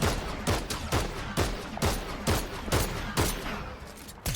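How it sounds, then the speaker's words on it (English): Rapid gunfire in the video game Fortnite, with sharp shots cracking in a regular, evenly spaced rhythm, about two per second, loud and close with no talk. "I'm hearing a lot of gunfire."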